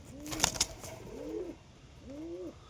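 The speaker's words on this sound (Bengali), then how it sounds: "নর কবুতর।" A male pigeon gives a few close, soft throaty coos in a slow rhythm, with a brief clatter of sharp noise near the start and quiet background otherwise.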